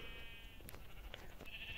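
Sheep in Minecraft bleat a few times in short, thin calls over a steady background of game sound, fairly quiet with no talking.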